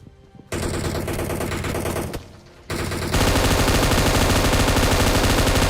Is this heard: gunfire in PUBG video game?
yes